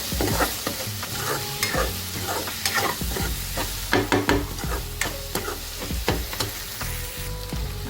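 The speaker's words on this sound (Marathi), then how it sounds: "आणि कांदा आणि टोमॅटो आता छान शिजवून घेऊया." Onion and tomato stir-fry in a pan for potato bhaji. Continuous close sizzling runs under repeated scraping strokes of a spatula, with clattering clicks throughout.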